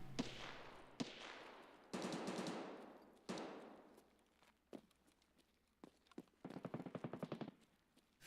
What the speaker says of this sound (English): I feel like they're shooting all around me